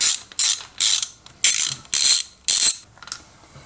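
A ratchet clicks in six quick, loud bursts with short pauses between, loosening spark plugs on a 1999 Honda Valkyrie Interstate engine after hydrolock. A softer, fading click follows at the end, close up and with no voices.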